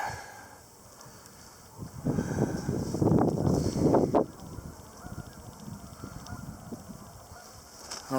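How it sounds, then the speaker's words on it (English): Geese honking in a wintry outdoor setting near running water, a cluster of overlapping honks rising in the middle at moderate distance, over faint wind and water murmur. "I don't know if you can hear the geese over there"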